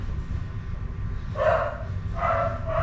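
A dog lets out two short barks at a moderate distance over steady background noise.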